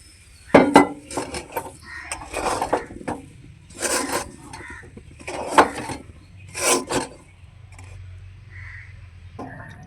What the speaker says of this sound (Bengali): এই চালের গুঁড়োর মধ্যে অল্প অল্প করে আমি দিতে থাকবো এইভাবে অল্প অল্প করে দিব আর নাড়তে থাকবো